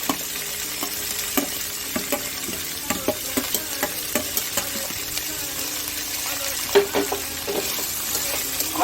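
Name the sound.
chicken frying in ghee with raw mango and green chilli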